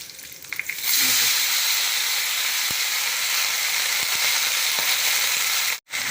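Lentils and red chillies frying in a pan for an herbal thuvayal, a loud, dense sizzling hiss that bursts in after a second and holds steady, with a few faint clicks and a brief cut near the end.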